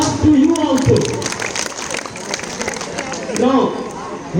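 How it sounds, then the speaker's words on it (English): Audience applause at a children's day student quiz, broad steady clapping filling the room while voices and cheering rise over it near the start and again toward the end. "So please give a big hand of applause to you also."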